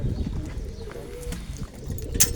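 Young tumbler pigeons coo softly inside a crowded coop, low murmuring calls repeating close by, with a short bright chirp near the end and a faint rustle around them.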